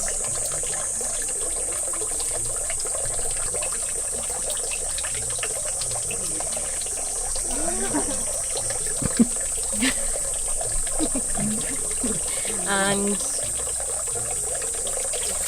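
Water poured from a wooden ladle at a Japanese shrine purification fountain, trickling and splashing in short bursts over steady background ambience, with people talking nearby.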